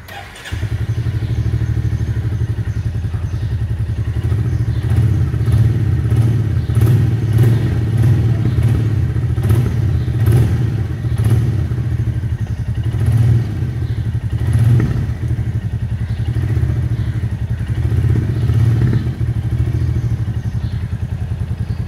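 A Royal Enfield Bullet motorcycle's single-cylinder engine runs loud and close for the whole stretch, with a steady thumping idle rising into throaty revs and some mechanical clatter.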